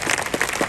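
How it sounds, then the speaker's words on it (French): Audience applause at a classic car elegance show in Dinard, a short burst of steady clapping from a crowd. "On peut vous l'applaudir par anticipation."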